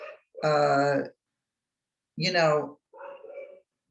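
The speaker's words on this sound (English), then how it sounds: "he's barking and I can't stop and make him stop it" A dog barking indoors, two loud drawn-out barks with a short gap between them, then a softer whine-like sound, heard alone with no talk.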